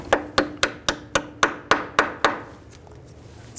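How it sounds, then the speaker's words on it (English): A hammer taps a brake hose retaining clip into place on a 2003-2008 Subaru Forester, nine quick, sharp metallic knocks in an even rhythm, close by, then a quiet fade. "Just give it a little tap."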